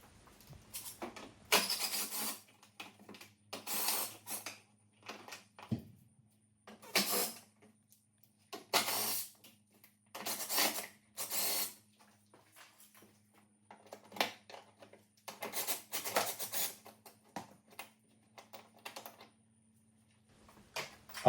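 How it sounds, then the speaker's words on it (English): Bolts being worked loose from the front bumper of a Porsche Cayenne, faint intermittent clicks and ratcheting bursts spaced irregularly against a low steady background hum. "After you finish removing the 3 bolts which are securing the front bumper"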